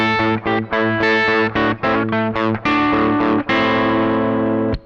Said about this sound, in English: that open string being picked with the plectrum really comes in handy to fill it out nicely